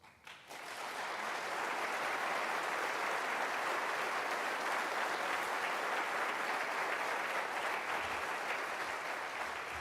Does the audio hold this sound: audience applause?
yes